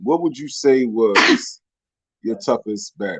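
A single sharp, breathy sneeze bursts out right at the tail of a man's spoken question, followed by a brief silence before talking resumes.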